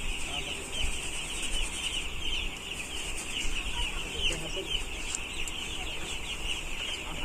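Broiler chicks on a poultry farm, a flock of same-size young birds heard as a steady, dense chorus of high chirping and clucking that continues without pause throughout.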